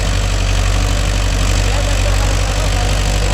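A Mahindra Yuvo Tech Plus 585 4WD tractor engine idles close by, a loud, steady diesel throb with an even low pulsing and no breaks.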